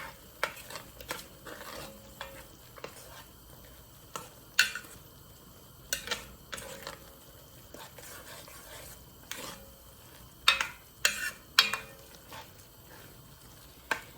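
A spoon stirs a pot of sausage stew with bacon grease and garlic, giving irregular scraping clacks against the pot over a low, quiet sizzle, close by with no talking.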